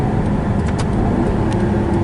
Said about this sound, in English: we'll try it for the purpose of this video to really make you hear the engine